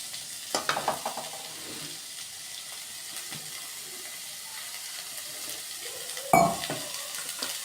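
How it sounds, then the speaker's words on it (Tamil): Cauliflower pieces frying in oil for a Tamil cauliflower curry, a soft steady sizzle with a few stirring scrapes and a sharp clatter near the end, no talking. "இதை எல்லாத்தையும் நம்ம என்ன பண்ணிட்டோன்னா நல்லா வந்து எண்ணெயில் வறுத்தாச்சு"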